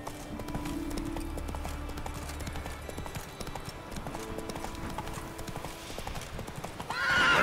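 The Witcher 3 horse Roach gallops with rapid, strong clip-clop hoofbeats over background music, ending in a loud whinny at the close.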